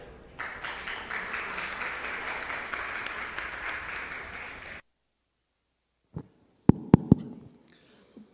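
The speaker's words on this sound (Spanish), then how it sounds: "Le recibimos con un fuerte aplauso." Audience applause at a conference welcoming speakers onto the stage, a steady wash of many hands clapping for about five seconds that cuts off sharply, followed by a few isolated thumps and handling knocks.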